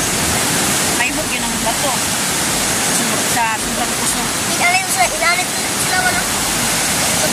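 Powerful floodwater surges down the Piñan river in a continuous, loud roar, with voices calling out over the rushing water.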